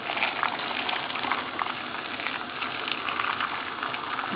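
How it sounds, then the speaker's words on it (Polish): Steady rushing splash of boiling water poured over potatoes in a pot, a continuous gushing hiss without pause, close and fairly loud. "zalewamy mniej więcej do połowy garka wrzącą wodą"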